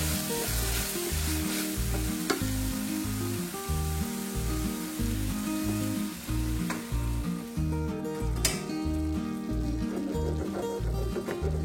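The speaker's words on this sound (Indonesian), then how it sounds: "Setelah itu tuang beberapa sendok air kaldu sapi yang sudah direbus tadi. Jadi bumbu yang lengket di dasar wajannya juga ikut mencair ya." Soto Betawi spice paste sizzles in a wok with beef broth, loud bubbling frying under rhythmic stirring and scraping strokes, with a brief pour of liquid partway through.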